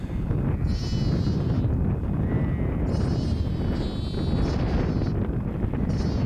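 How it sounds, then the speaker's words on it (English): Lambs bleat in an open Yorkshire Dales field, several high wavering calls spread over a few seconds against steady wind rumble on the microphone. "150 lambs in here, I'd say."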